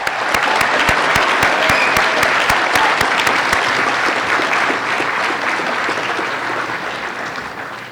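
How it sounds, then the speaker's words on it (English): A room full of staff at a gathering applauds loudly, dense clapping starting at once and holding steady before slowly thinning toward the end. "And now please applaud yourselves for all that you do."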